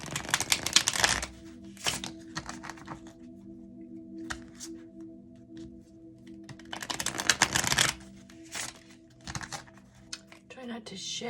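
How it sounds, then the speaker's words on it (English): Tarot cards being shuffled by hand at a desk, stiff crinkly bursts of riffling and sliding that come in two main spells with quieter handling and brief taps between, close to the listener. "These are not easy to shuffle."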